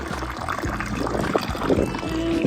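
A bottle fills with fresh mountain water under a village fountain spout, a steady gurgling pour with a faint rising pitch as it fills, close to the microphone.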